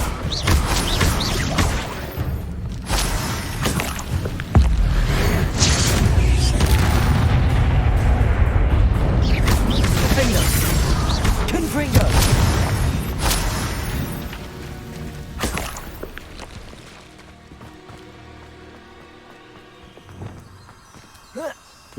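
Spell blasts from Hogwarts Legacy combat, fire and blasting spells like Incendio and Confringo, as a dense run of loud booming impacts and crackling bursts over game music, easing off into quieter ambience near the end.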